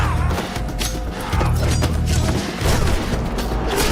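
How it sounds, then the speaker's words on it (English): Grenade explosions and gunfire in an action film scene in a shop, a dense, loud run of booms, thuds and crashes with mechanical clatter, continuous and heavily layered. "using the grenades to blow them up"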